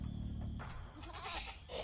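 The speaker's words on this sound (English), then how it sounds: "I'm actually just gonna go collect sheep" Sheep bleat in the Age of Empires II video game, a faint animal call over steady game background sounds, with no talking.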